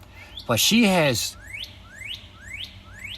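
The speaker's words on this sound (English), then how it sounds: "Saucy birds all whistling at me." A short spoken phrase, then a bird repeats a bright, sweeping chirp about five times at a steady pace in the background.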